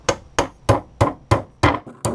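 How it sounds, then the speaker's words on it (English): A ball peen hammer knocks a metal clutch part seven times during a DSM car build, in a steady, even rhythm, each blow a loud, close, ringing clank. "Take a little ball peen hammer and see if I can't just knock it."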